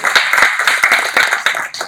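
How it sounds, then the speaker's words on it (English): A seminar audience at a book review event claps together for a speaker, a steady patter of many hands with sharp individual claps standing out, loud and close, lasting about two seconds with no voices over it. "Can we have a round of applause for him?"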